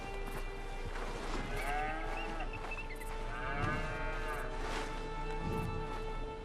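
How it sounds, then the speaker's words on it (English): Cattle low and moo in a farm pen in the video game Red Dead Redemption 2, several drawn-out calls spaced across the stretch over a steady ambient game backdrop. "Okay, so this is where the cows are at."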